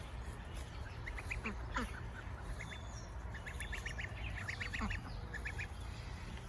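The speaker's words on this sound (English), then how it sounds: "Come on, ducks." Ducks quack in quick bursts of several calls at a time, fairly near, over a steady outdoor rustle of wind and background noise.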